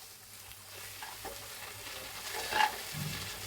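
Chili and turmeric powder fry in a pan with a steady soft sizzle, a few stirring scrapes and clinks over it, and no talking.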